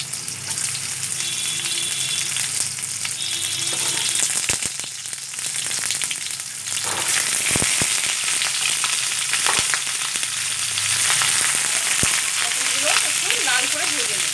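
Pointed gourd (potol) pieces fry in hot mustard oil in a kadai, a loud continuous sizzle with stirring scrapes and clatter throughout, no one speaking.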